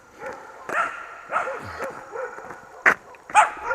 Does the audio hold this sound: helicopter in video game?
no